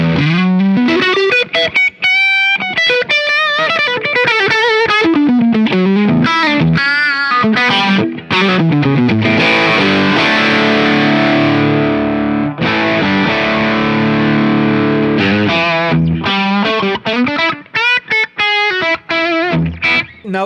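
Les Paul electric guitar played through a Visual Sound Open Road overdrive pedal, loud and continuous with gritty distortion, moving between quick melodic lines and sustained ringing chords with no talking.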